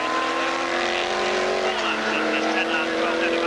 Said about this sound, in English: Here we see the Lotus Elan of number 28, that's Roger Matthews,